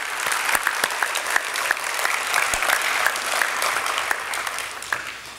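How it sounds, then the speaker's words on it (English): A crowd at a winter sports awards ceremony gives a big, sustained round of applause for the wrestling dream team, with crisp individual claps standing out from the steady roar. "One more big round of applause for the Wrestling Dream Team."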